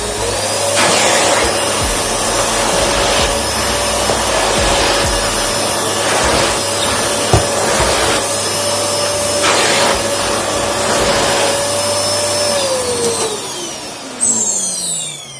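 A GRUNHELM GVCM244BB vacuum cleaner runs at maximum speed with a loud, steady whine and rushing airflow, plus some rubbing and scraping over the floor. Near the end the motor pitch drops as it winds down.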